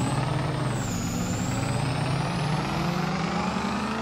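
Game-modelled Ford pickup engine from Farming Simulator 22 running continuously, a strong low rumble with a climbing tonal whine as it picks up speed, no voices over it.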